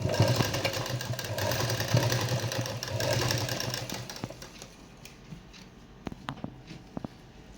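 A sewing machine stitching around the edges of a dupatta, a fast mechanical whirr for about four seconds that stops, followed by a few scattered clicks and taps of handling.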